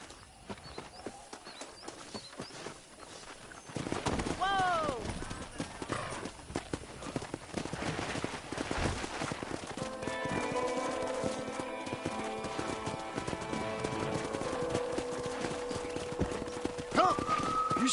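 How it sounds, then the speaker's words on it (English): Horses in the video game Red Dead Redemption clop along with steady hoofbeats, a horse whinnies early on, and background music and occasional voices sit underneath. "let's see if we can't wrangle some horses"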